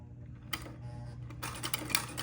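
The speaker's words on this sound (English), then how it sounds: "I will begin to sew a buttonhole." A home sewing machine stitches a buttonhole on a baby bubble garment, with a low steady motor hum and a burst of rapid mechanical clatter building in the second half, close and fairly quiet.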